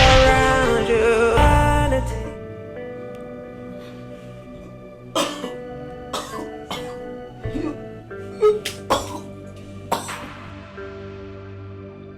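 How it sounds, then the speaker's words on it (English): A woman coughs in a harsh fit at first, then keeps coughing in scattered bursts over a faint steady tonal background. "She coughs non-stop as if her heart will cut in shreds."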